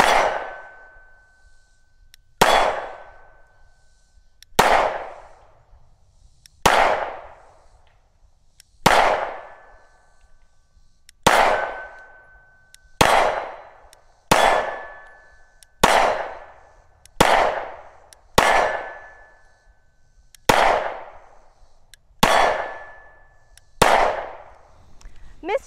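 Gunshots at an outdoor range with rounds striking steel targets: about a dozen loud, sharp reports, evenly spaced roughly two seconds apart, each followed by a brief decaying ring, with no one talking.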